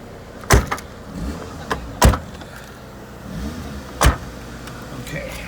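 A damaged car door at a vehicle auction is swung and tried several times, giving three loud, sharp thumps spaced a second or two apart, with quieter rattles and handling noises between them.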